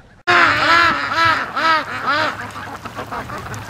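Several Muscovy ducks quack loudly and close by on a lake in a rapid, overlapping series, the calls tapering off to quieter murmurs against faint outdoor background noise.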